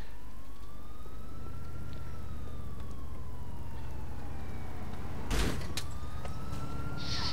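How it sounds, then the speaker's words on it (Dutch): Ambulance siren in the video game GTA IV, a steady wailing tone rising and falling continuously over low engine rumble, with a brief thump midway. "Weer een ambulance, wat nou weer?"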